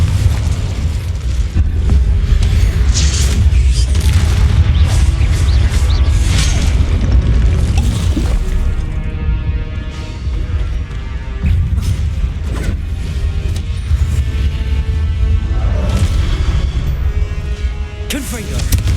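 Incendio and Confringo spell blasts from Hogwarts Legacy combat: loud, repeated booming explosions and crashes in irregular bursts over heavy rumble, with a voice speaking at times amid the blasts.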